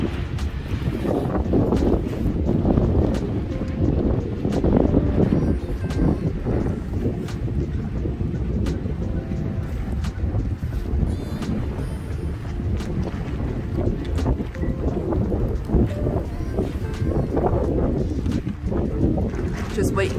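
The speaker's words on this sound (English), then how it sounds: "I don't know if you can hear me very well, but with the wind." Strong wind buffets the microphone at a new-build house construction site, a loud continuous rumbling roar throughout with a voice speaking faintly under it.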